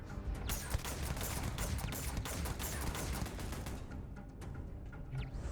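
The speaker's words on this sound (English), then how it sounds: "Yeah, keep shooting the wall." Gunfire in the Starfield video game aimed at a wall, rapid cracking shots in a dense, steady burst that thins out near the end, moderately quiet and alone with no talk.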